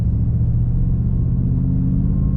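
A 2022 GMC Sierra with an AWE cat-back exhaust, heard from inside the cab with windows up during normal driving at 2,000 RPM: a steady, deep, loud rumbling drone with no talk.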